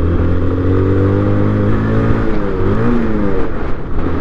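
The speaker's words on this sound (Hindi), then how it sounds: "You can see here the voice of engine, engine भी ना रोने लगा है।" A car engine labours loudly and steadily on the high-altitude climb to Umling La, its deep drone holding under strain with pitch shifts as the driver works through the ascent; no talking.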